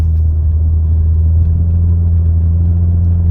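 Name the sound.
car engine and exhaust while driving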